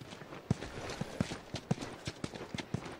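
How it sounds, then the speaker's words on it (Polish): Horse hooves clip-clopping in The Last of Us video game, a steady rhythmic series of close, distinct hoof strikes at walking pace. "Tak, Joel, podtykaj konia po dupie."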